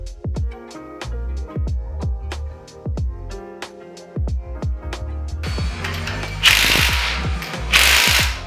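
A hand ratchet clicks in quick bursts while bolts are tightened during a lift kit install on a 2023-2025 Toyota Prius. The rhythmic pawl clicks are close and clear, and louder whirring bursts come near the end.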